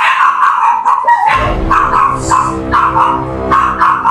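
Dogs bark and yip indoors in a house. The sharp barks come close and loud, mixed with a whimper, in a rapid irregular series with no talking.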